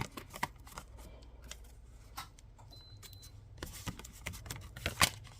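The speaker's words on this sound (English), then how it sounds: "And we'll die cut this one as well." Cardstock is cranked through a manual die-cutting machine, producing a series of dry clicks and ratcheting ticks close by, sparse at first and then bunching into louder bursts toward the end.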